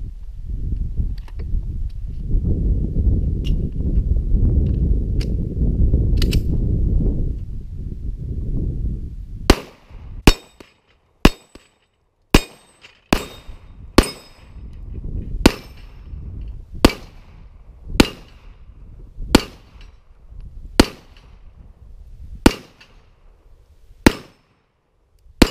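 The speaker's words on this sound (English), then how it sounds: "One shot on each of the red targets on the tree." Gunshots at red targets on a tree during a run and gun course: after a stretch of rumbling movement, about fifteen sharp, separate shots ring out at irregular intervals, loud and close.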